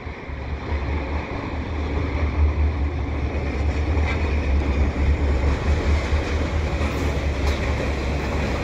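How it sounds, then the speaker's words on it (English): A CP eastbound diesel train with three GP20ECO locomotives rumbles past steadily at close range at the Dorval Ramps, a constant heavy roar of engine and wheels on rails with low droning throughout, no voices. "I've got a CP train coming through at the Dorval Ramps"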